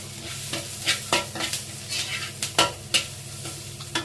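Chicken liver and gizzard frying in a pan while being stirred, with rhythmic metallic scrapes and clinks repeating every half second over a loud continuous sizzle, close up.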